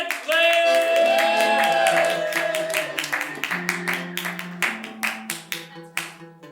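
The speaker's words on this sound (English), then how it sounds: "get the round of applause going for my girl, Jen" A live late-night comedy show audience applauds a comedian, with sharp, fairly regular claps rising after a musical opening and continuing steadily to the end.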